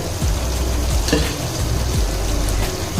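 Eggs drop into hot, oily masala for a Bengali masala egg curry, giving a steady loud sizzle with a few sharper spits and stirring scrapes along the way.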